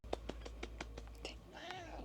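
A cat gives a quiet, short meow near the end, after a series of soft, evenly spaced clicks in a quiet room.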